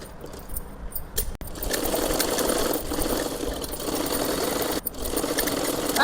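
A sewing machine runs steadily, stitching lace onto the sleeve of a salwar suit, its motor whirring continuously at close range with a couple of brief pauses near the start and one short break late on.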